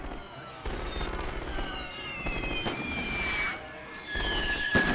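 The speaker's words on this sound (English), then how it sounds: "Now the artillery blasts are coming in." Artillery blasts in The Great War video game, set in the Russian Revolution, arrive as repeated loud booms over sustained crackling gunfire and battle din, with some shells landing close.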